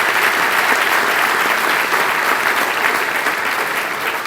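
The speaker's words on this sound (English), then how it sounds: "Will you please give them a round of applause as our founding members?" Sustained audience applause at a Touchdown Club meeting, steady and dense with no break, a full room clapping without talk over it.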